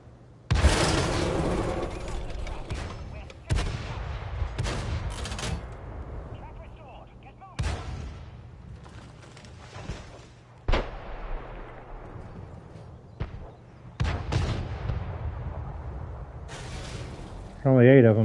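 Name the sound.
tank gunfire in World of Tanks video game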